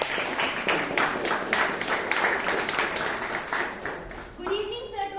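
A room of attendees at a Toastmasters meeting claps in sustained, lively applause lasting several seconds, with a voice beginning to speak as it fades.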